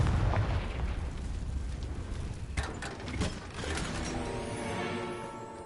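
Confringo blasting spells cast in the Hogwarts Legacy video game: deep rumbling booms with sharp bursts near the middle, layered over dense game noise and ending in a sustained hiss.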